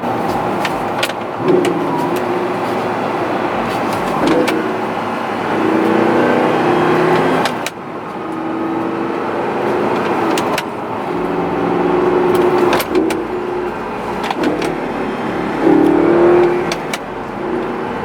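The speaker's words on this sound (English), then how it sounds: "The way the car sounds, it actually sounds really good for not being the V10 and having a stock exhaust" An Audi R8 engine with stock exhaust, not the V10, hums and rises with acceleration from inside the cabin, occasional revs swelling over road noise and small clicks.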